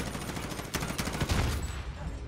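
Bursts of automatic gunfire in Call of Duty: Modern Warfare, several sharp rattling volleys packed close together over a couple of seconds, fairly loud, no voices.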